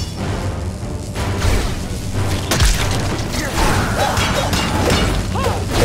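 A boss machine firing its cannon in the video game Sacred 3 during a fight, giving heavy booming blasts and crashing impacts over dense battle noise and game music, with a sharp hit around the middle.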